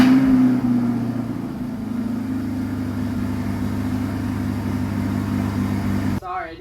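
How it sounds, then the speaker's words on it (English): A naturally aspirated V8 sports car engine runs with a loud, steady rumbling drone, holding a revving pitch close by, then cuts off abruptly just before a voice begins speaking. "I didn't think you could hear me over this naturally aspirated V8 engine"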